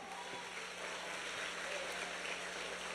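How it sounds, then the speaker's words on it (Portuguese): A church congregation at a worship service applauds the Lord in a soft, continuous wash of clapping that sounds distant and steady, with no distinct individual claps. "Você pode aplaudir ao Senhor bem forte?"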